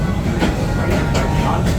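The Serengeti Express train at Busch Gardens Tampa rolls along with a loud, steady rumble and rhythmic clacking wheels, heard close from on board.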